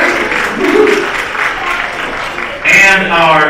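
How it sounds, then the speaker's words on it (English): Crowd applause for sponsors at the PAWS Beach PAWty, a short outdoor patter of clapping running under a loud amplified voice, rising briefly toward the end. "Big round of applause for our Palm Tree sponsors"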